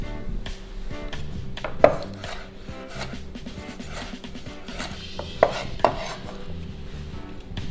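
A knife chops fresh thyme on a cutting board for jerk chicken seasoning, giving a steady run of quick, close taps with a few sharper louder knocks, and no talking.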